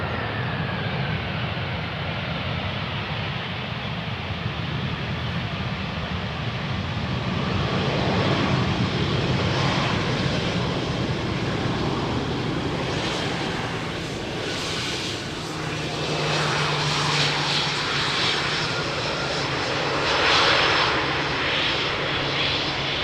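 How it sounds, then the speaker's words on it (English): A Croatia Airlines airliner rolls along the runway at Amsterdam Schiphol, its engines giving a loud, steady roar that swells slightly as it slows toward the exit. "the Croatia Airlines taking the exit over to the left, first exit of the runway"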